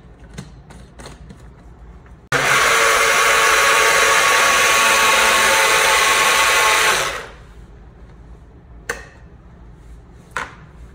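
A rechargeable mini blender whirs loudly and steadily for about five seconds while blending frozen strawberries, sugar and milk, then winds down and stops. Light clicks and taps come before and after.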